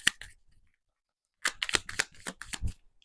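Tarot cards are shuffled and drawn in quick crisp flicks and slaps. A short burst comes first, then a pause, then a denser run of snaps up close, with no talking.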